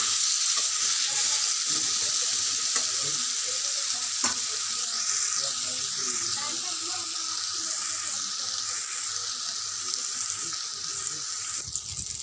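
Eggplant frying in hot oil, a constant bright sizzle with occasional clinks and stirring scrapes, close, running steadily with a faint background hum.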